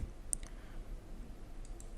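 A single sharp computer mouse click on an online medical authorization form, crisp and close, followed by a couple of fainter clicks over a quiet room background.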